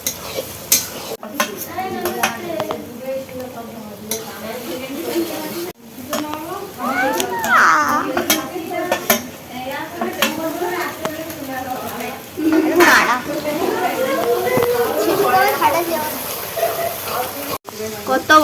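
Meat masala is sautéed and stirred in a big pot for biryani, with a continuous frying hiss and clattering utensil scrapes. Several people talk over it throughout.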